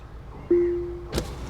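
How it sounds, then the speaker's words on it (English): Power window on the driver's side of a Mahindra Scorpio N opening under voice control: a steady motor whine for about half a second, ending in a soft thunk, inside a quiet cabin. "Hey Alexa, open the driver's side window."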